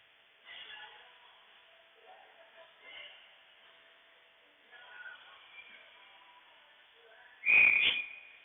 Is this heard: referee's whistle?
yes